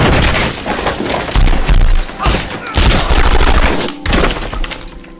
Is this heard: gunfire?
yes